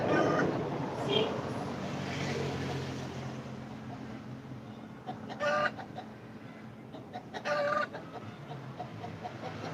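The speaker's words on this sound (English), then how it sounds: "Sorry for my chickens" Backyard chickens cluck in the morning around egg-laying time, their repeated bursts and squawks rising over a steady background, with a person talking underneath.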